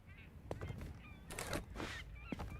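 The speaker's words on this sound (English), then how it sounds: "Oh my god, hearing the seagulls." Faint gull cries from the video game Wuthering Waves, a few scattered honking calls against a quiet background ambience.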